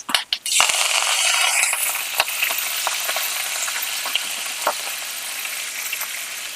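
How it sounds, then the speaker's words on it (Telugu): Curry leaves and coriander fry loudly in hot oil in a pan as a tempering for a ridge gourd buttermilk rasam, giving a steady, close sizzle with scattered sharp crackles and pops and no talking. "స్టవ్ బంద్ చేసేయండి మంచి ఫ్రై అయింది పోపు"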